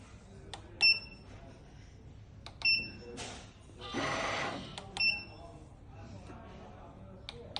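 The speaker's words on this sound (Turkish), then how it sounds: "Dark Mini e, çift çıtlı profesyonel yeni nesil para sayma makinemiz" A Dark Mini dual-sensor banknote counting machine chirps with several sharp electronic beeps, then gives a short whirring rush as notes feed through, all under someone talking.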